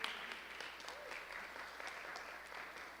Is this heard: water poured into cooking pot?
no